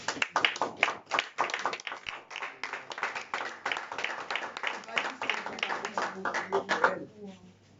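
A church congregation claps in steady rhythmic praise of the Lord. The clapping is dense and loud throughout and fades near the end, while voices speak and sing beneath it.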